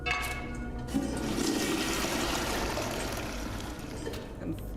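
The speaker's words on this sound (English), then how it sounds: "Can flush the toilet." A toilet flushes in The 7th Guest Remake, a haunted manor game: a loud rushing swirl of water that surges, then slowly drains and trickles away over several seconds.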